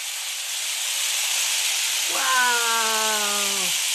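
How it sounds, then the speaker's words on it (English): A large rain stick filled with seeds is tipped, giving a loud, steady, close hissing rush. Partway through, a brief wavering tonal cry rises above it. "And that is called a rain stick."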